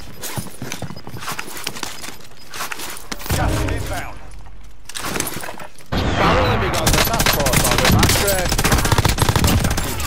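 RPD light machine gun fire in the Warzone battle royale, rapid dense bursts running through the clip at close range, with gameplay noise around it.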